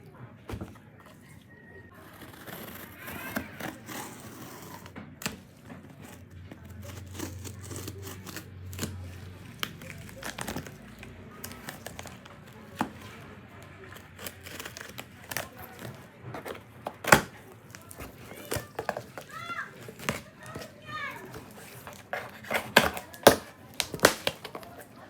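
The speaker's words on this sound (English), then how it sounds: "So let's open this box, guys, and for you to see what's inside of it." Box of Jconly Vetar tattoo needle cartridges being opened by hand, sparse crinkles, taps and sharp clicks of cardboard and plastic packaging scattered through a quiet room, getting busier toward the end.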